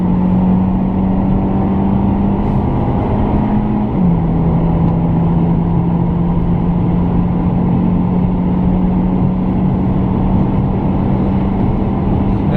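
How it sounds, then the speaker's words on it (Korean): A Hyundai Sonata LF engine accelerating on the road: a loud, continuous droning hum heard from inside the car, holding a steady pitch that briefly drops around a shift, then holds on under constant road noise. "3500rpm이 넘어가기 전까지는 그래도 꽤 괜찮은 엔진음을 선사해 줍니다"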